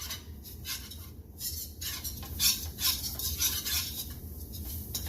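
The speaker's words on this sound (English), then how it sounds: "I'm going to use this whisk and cook this cornstarch" A whisk scraping and stirring cornstarch in a pan for a vegan mushroom dish, a close, continuous rhythmic metallic swishing and scratching with light clinks against the pan, with no voices.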